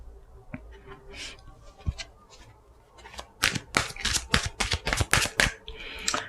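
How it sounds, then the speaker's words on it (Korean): A deck of cards is shuffled for a tarot-style reading, a few soft isolated flicks at first, then a quick run of crisp, close riffling snaps. "여러분을 위한 조언 카드 뽑아보고"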